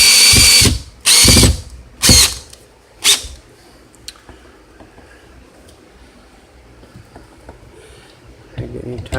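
A power drill drives a screw into a wall anchor through a pre-drilled hole in a stud while an HVAC mounting plate goes up, giving several short loud whirring bursts in the first three seconds, then a quiet room with faint handling sounds.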